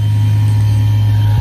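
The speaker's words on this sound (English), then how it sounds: "There's this truck over here doing maintenance on the fire hydrant, and it's just so noisy." Steady low engine drone of a truck parked nearby for fire hydrant maintenance, running continuously and loudly with no change in pitch, heard on a noisy street in the morning.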